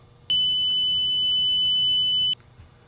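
An emergency alarm in an industrial plant gives one loud, steady high-pitched tone lasting about two seconds, starting and stopping abruptly over a low background hum.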